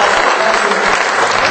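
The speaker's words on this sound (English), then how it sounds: "Give him a round of applause." An audience at a comedy magic show applauds, a loud, dense burst of clapping from many hands that carries steadily through the brief moment, with a faint murmur of crowd voices underneath.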